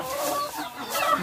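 A chicken clucks in a short, close burst of several quick, throaty notes.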